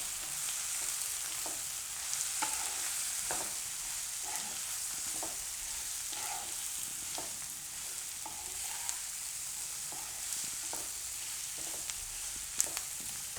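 Capsicum and onion curry sizzles steadily in a pan while a spoon stirs it, scraping and tapping at a regular pace over the constant frying hiss, with no talking.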